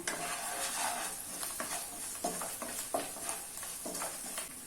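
Chicken pieces and spices are stirred in a frying pan, a soft sizzle under repeated scraping and clinking strokes of a spoon against the pan, fairly quiet and close.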